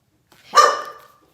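A single short, sharp dog bark sounds close and clear in an otherwise quiet room.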